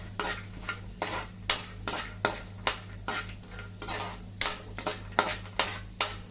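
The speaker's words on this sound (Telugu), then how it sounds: "పల్లీలు మీడియం మంటలో వేయించుకోవాలి" Rhythmic scraping and clinking of a utensil stirring peanuts roasting in a pan over a medium flame, repeated strokes about twice a second, close and fairly loud over a low hum.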